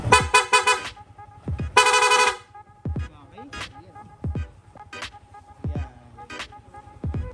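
Several short honks from a Yamaha Sniper 150 motorcycle's PIAA horn sound in quick bursts, a pair of toots then a longer blare, followed by sparse clicks and faint background noise.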